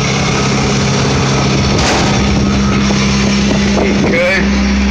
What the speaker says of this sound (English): I'm gonna take you guys for a ride on a worm gear elevator